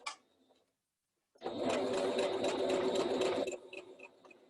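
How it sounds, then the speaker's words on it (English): A sewing machine stitching a straight seam: after a brief quiet pause it starts up with a loud, fast, even mechanical whirr of needle strokes for about two seconds, then slows and stops. "And then you're just going to sew along your straight line."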